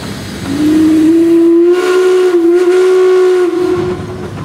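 A 1906 Russell steam engine sounds one long, loud whistle blast at a parade, holding a steady pitch with a slight wavering for about three seconds and then cutting off.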